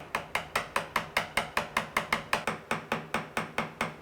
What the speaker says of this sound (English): I'm looking along the back of the chisel to ensure it's going down square.